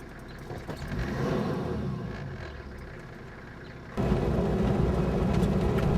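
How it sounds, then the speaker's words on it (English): A safari truck's engine rumbles and revs as it reverses away from elephants in Uganda, a low growling drone that swells and steadies, then jumps louder near the end, close and without speech. "Dwada tells me to get back in the truck as he puts it in reverse"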